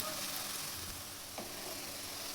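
Onions frying in oil with a spoonful of panch phoron spice mix for achari chicken, a steady close hiss of sizzling with a brief stir or scrape partway through, no voices.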